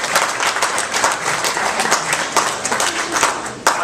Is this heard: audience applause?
yes